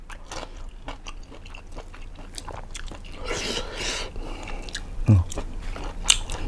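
Shrimp balls with whole shrimp pieces inside are bitten and chewed up close, with soft repeated crunching and wet mastication sounds and a sharper bite near the end.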